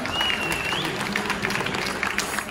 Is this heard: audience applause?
yes